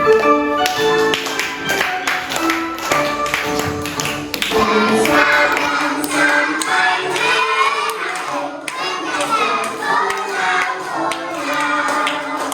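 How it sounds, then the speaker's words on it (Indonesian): A group claps steadily in rhythm along with the sung Indonesian patriotic song "Dari Sabang Sampai Merauke", with children's voices joining in throughout. "Sambil tepuk tangan."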